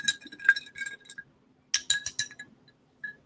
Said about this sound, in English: And then I like to stir mine, so we're gonna do a stir.